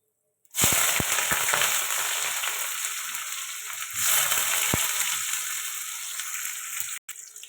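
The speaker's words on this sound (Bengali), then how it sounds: "তেল দিয়ে দেবো, পেঁয়াজ দিয়ে দেবো" Onions hit hot oil in a pan with five-spice seeds, bursting into a loud, steady sizzle that swells again midway as they are stirred, with a few sharp spatter pops near the start.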